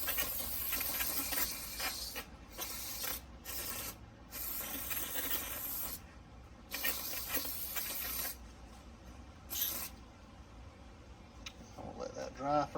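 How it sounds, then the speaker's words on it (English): Brake cleaner sprayed from an aerosol can onto scuffed door repair parts, heard as several bursts of close hiss broken by short pauses. "So now I'm going to shoot them with some brake clean"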